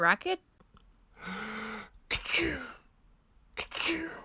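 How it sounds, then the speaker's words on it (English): Cartoon character sneezing from pollen, with a sharp sneeze burst followed by a drawn-out wailing sound and another sneeze, mixed with brief spoken and whispered voices. "I didn't know pollen could make you sneeze, too."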